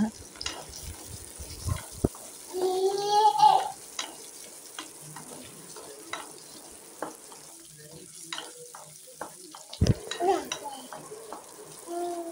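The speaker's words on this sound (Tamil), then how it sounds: "பூண்டும் இஞ்சி ஒரு பெரிய துண்டு இஞ்சி கட் பண்ணி சேர்த்துக்கோங்க. ரெண்டும் நல்லா வதக்கிக்கோங்க." Garlic and ginger sauté in a pan with a soft, uneven sizzle and a few louder bursts of stirring and scraping, broken by quieter gaps.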